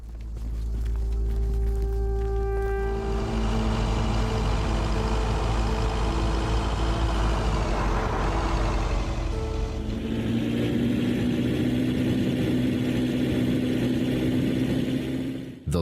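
A car engine droning steadily while driving through a desert in the video game The Long Drive, loud and continuous, with the pitch shifting mid-way as if changing gear.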